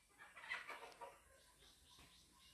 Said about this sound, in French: Voilà deux coqs qui bagarrent.